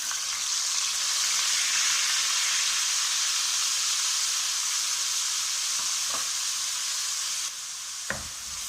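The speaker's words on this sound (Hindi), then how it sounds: "तेल गर्म हो चुका है। अब इसमें हमने ये प्याज डालने हैं।" Onion paste sizzles in hot oil for a chicken kadai, a steady loud frying hiss with a couple of faint utensil taps near the end and no voices.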